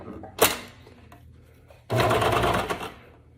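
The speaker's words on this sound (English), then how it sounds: "you're just gonna stitch up and around that curved edge on both pieces" A sewing machine stitching the curved pocket edges of flare leggings, a short mechanical burst followed after a pause by a longer steady whirring run, close and loud.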